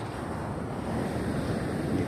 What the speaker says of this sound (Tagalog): Grabe pagkalalaki ng alon.